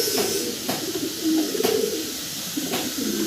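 Racer pigeons cooing close by, a few soft, throaty, rhythmic coos repeating over about three seconds, clear and fairly loud with no speech.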